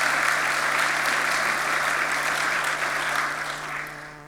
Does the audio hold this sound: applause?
yes